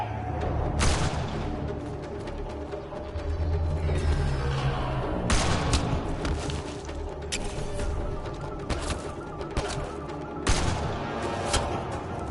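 Video game gunfire, with bursts of shots and heavy booms recurring in waves over a busy mechanical background, loud and close throughout.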